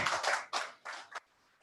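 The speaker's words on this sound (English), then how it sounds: "Please let us give him a round of applause." An audience claps for a guest of honor at a criminal law review conference, with several short bursts of clapping fading out over under two seconds.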